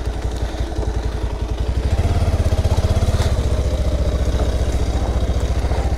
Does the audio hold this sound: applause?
no